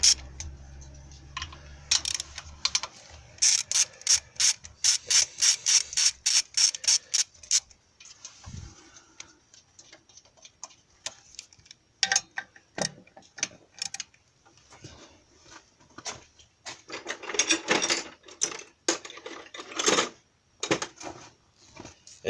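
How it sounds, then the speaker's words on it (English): A ratcheting wrench working bolts on a Suzuki Grand Vitara 2.5L engine during a timing and water pump job, with rapid bursts of crisp clicking in uneven runs, close and sharp, separated by brief pauses and metallic handling noises. "This is where ratcheting wrenches come in handy, getting into weird little spots."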